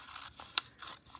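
Scissors trim a thin strip off the edge of a square of paper for an origami box, making a brief, faint, close-up crisp snip amid a few soft rustles.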